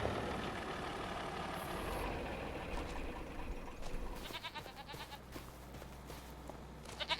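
Goats bleat repeatedly in the video game Farming Simulator 25 over a low tractor engine drone, with a few short bursts of animal calls toward the end, fairly close.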